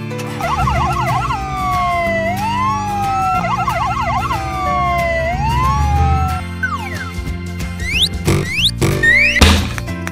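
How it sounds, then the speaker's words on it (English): An ambulance siren alternates rapid warbling bursts with slower wailing sweeps, loud and near, then ends in playful boings and thumping hits. "Ambulance."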